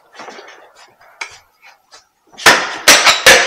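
A plastic hammer knocks a bolt out on an Aprilia RS660 motorcycle, giving three sharp, loud strikes in quick succession after some quieter clinks and handling noises.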